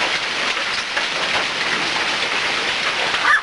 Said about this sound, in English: they thought it was funny until they started getting hit by the hail